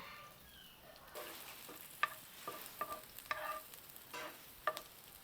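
Small pieces of chopped garlic fry in oil in a pan, a faint, soft sizzle with a few light clinks of a stirring spoon, quiet and close.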